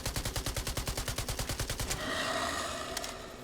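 Rapid automatic gunfire in the video game Fargone, a fast evenly spaced burst of shots for about two seconds, then a louder blast and rumble with a couple of sharp follow-up cracks.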